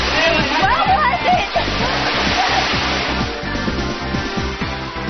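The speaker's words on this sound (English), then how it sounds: "First waterfall I've ever climbed before." A loud, steady roar of rushing falling water, close by, with a rhythmic low thumping underneath and a voice faintly heard at times.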